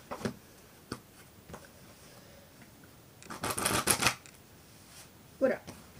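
A spectator shuffles a deck of playing cards, giving a few short riffles and a louder, longer burst of flicking cards in the middle, close by with no one talking.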